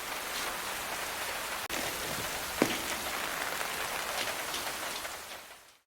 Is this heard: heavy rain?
yes